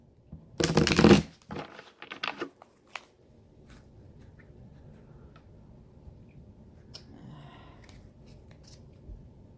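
A quick burst of tarot cards being riffled and shuffled, followed by a few soft taps and then a quiet room.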